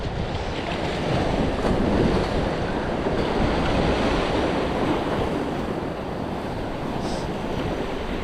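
Sea waves and rushing tide on the coast during a surge warning, a loud continuous wash of surf mixed with wind buffeting the microphone, no voices.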